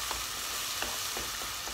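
Tomato paste frying in a pan, a soft, continuous sizzle with faint stirring scrapes at intervals, quiet and close.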